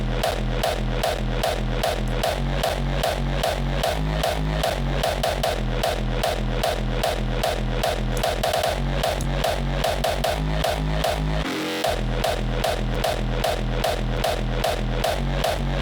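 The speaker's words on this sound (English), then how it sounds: "And then obviously the kick sounds like this" Punchy kick drum from an electronic music mix, thumping in a steady four-on-the-floor pulse through the full track alongside dense synths, with a brief break near the end.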